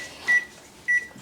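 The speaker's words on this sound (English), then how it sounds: "I do know how to use my microwave" A microwave oven that is softening shea butter gives two short, clear electronic beeps about half a second apart over a faint background hum.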